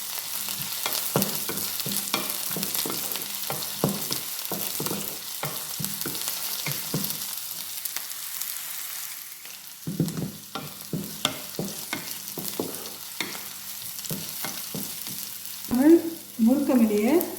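Cuttlefish fry sautéing in a pan with chillies, a continuous sizzle broken by repeated scraping strokes of a spoon, with louder stirring and clatter toward the end.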